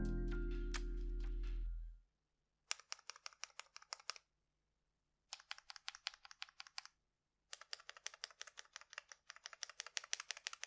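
Keystrokes on a custom XD96 mechanical keyboard come in three quick, punchy bursts of clicky typing separated by pauses, preceded by a short low hum that stops abruptly.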